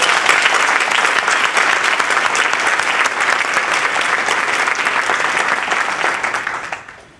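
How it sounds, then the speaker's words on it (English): Sustained audience applause at a district spring conference table topics contest, loud and dense throughout before tapering off at the end. "Please give yourself a big round of applause."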